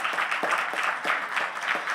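A crowd applauds steadily, many hands clapping together in a dense, even wash of sound.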